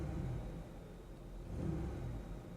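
An Aztek's engine idles quietly, heard from the cabin with the air conditioning off, a soft, steady low rumble with a faint hum, no voices.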